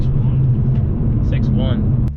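A BMW 335i with a Cobb Stage 1 tune accelerates from a soft launch, a steady close engine drone heard from inside the car while people talk over it.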